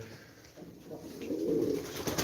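Tumbler pigeons coo softly at close range, a low rolling call that swells toward the end with no talk over it.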